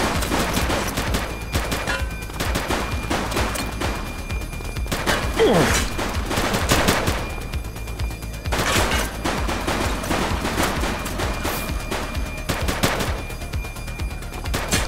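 Gunfire in the police video game The Precinct, repeated bursts of rapid shots and sharp cracks across the whole stretch, loud and close, with a few heavier impacts mixed in.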